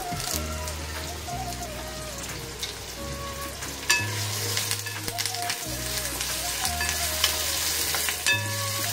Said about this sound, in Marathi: कांदा छान असा परतून घ्यायचा इथे।